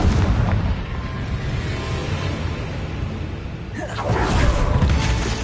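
A Confringo blasting spell in a Harry Potter video game sets off a loud booming explosion with a sharp burst near the end, layered over rumbling battle noise.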